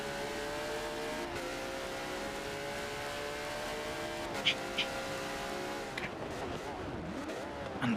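Race cars lapping Spa-Francorchamps in a racing video game during a 24-hour event, their engines droning and shifting pitch as they downshift and accelerate, with brief tire squeals and clicks, continuous and close.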